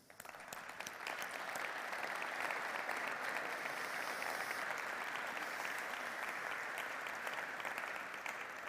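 An auditorium audience at the Talentia Summit in the Ciudad de la Cultura de Galicia bursts into sustained, dense applause that builds quickly and holds steady.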